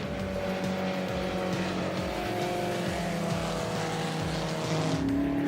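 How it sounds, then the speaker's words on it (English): Historic race cars, including an Alfa, a Mini and a Lotus Cortina, roar down a circuit's main straight, with engine drone rising and falling steadily and loud, continuous mechanical noise throughout. "On the main straight, it's Shane Bartman in his Alpha who leads Terence Boertes in the Mini"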